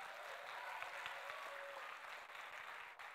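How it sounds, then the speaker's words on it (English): A middle school audience applauds a quiz competition team, a faint, distant patter of many hands clapping that stays steady for a few seconds before thinning out. "Give him a round of applause."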